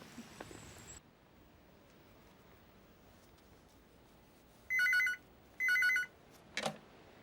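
A phone rings in an office: two short electronic trills in quick succession after a quiet stretch, fairly close and clear, then a brief handling clunk as it is picked up, no voices.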